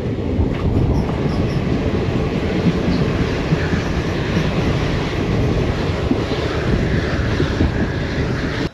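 The Mysuru–Talaguppa Intercity Express rolls along after leaving KR Nagar station, a steady loud rumble with rattling carriage noise, heard from on board, with no talk.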